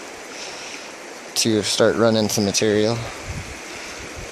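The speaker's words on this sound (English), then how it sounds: "There's a little creek that runs behind me." A small creek flows in American Fork Canyon below Tibble Fork Reservoir, a steady low rushing hiss present throughout while someone talks briefly over it.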